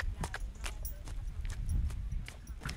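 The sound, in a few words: therapy horse walking, hooves clip-clopping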